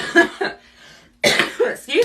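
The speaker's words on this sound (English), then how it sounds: "it's making me cough" A woman coughs in short harsh bursts during an at-home rhythmic exercise session, close and loud, with a brief quiet gap between coughing spells.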